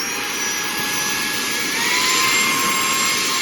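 A mini portable handheld car vacuum with air-duster function running at high power gives a loud, steady, high-pitched whirring whine that holds constant throughout, alone without talk.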